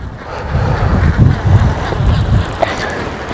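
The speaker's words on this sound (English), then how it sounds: "Wind's picked up a little bit." Gusty wind blows across the microphone on a UK beach during sea fishing, giving a steady low rumble that surges in loud buffets. No one speaks.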